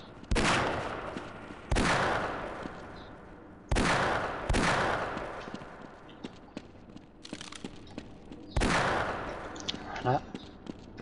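Gunfire from the video game Half-Life comes in several loud bursts of rapid shots separated by short pauses, with echoing tails and scattered game effects in between.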